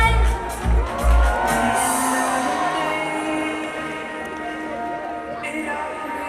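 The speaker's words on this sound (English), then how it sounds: "Can we have a huge round of applause, everyone?" A crowd cheers and whoops at a college event, loud shouts and a bang up front easing into sustained, fading cheering and applause over several seconds.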